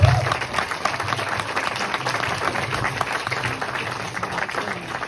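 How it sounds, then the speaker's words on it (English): Audience applause at a traditional Irish music course concert, with a full, sustained burst of clapping from a crowd after a Carolan piece, loud and continuous throughout. "she deserves another round of applause for that"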